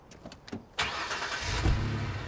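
A truck engine cranks over in the open-world game Watch Dogs, preceded by a few short clicks and thumps, then catches with a sudden roar and settles into a steady, rumbling idle that swells slightly near the end.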